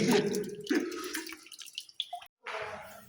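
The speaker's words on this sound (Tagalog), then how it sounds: "Malakas gripo mo dyan eh." A tap runs strongly in a cave setting, water gushing and splashing in uneven bursts that briefly cut out before resuming loud and close.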